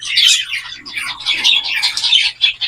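Zebra finches chirp in a busy, close cluster of bright, rapid tweets that overlap continuously with no pauses.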